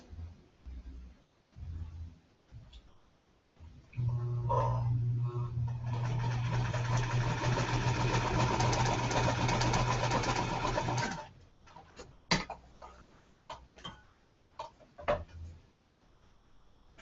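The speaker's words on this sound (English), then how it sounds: "now I'm going to sew right on the line" A home sewing machine stitches quilt pieces for a baby quilt in one steady whirring run of about seven seconds, with quiet fabric handling and faint talk before and after it.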